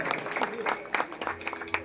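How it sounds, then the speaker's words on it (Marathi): Crowd applause at a live Ghumat aarti performance by a devotional music troupe in Mardol, Ponda, Goa, brisk uneven clapping in bursts, moderately loud with a slight roomy echo. "त्यांनाही जोरदार टाळ्या"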